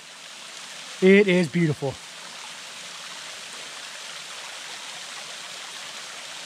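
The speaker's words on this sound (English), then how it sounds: "So that's why this waterfall is flowing so good." Princess Falls in Big South Fork flows strongly after rain, a steady even rush of falling water heard throughout, with a person speaking briefly near the start.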